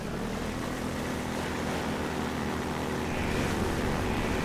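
Helicopter in the Half-Life 2 video game, a steady broadband rotor-and-engine drone that holds at an even level and swells slightly louder toward the end, with no talking.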